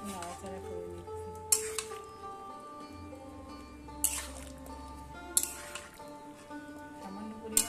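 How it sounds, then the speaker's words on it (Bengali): Food with added turmeric is stirred in a pan, giving a few wet, squishy scrapes and light utensil clinks over a quiet background, with a voice talking faintly. "এবার আরেকটু নাড়াচাড়া করে নিচ্ছি।"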